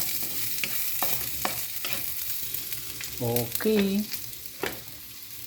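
Mung beans and vegetables sautéing in a pan make a steady sizzle, broken by repeated clacks and scrapes of stirring; one short word is spoken partway through.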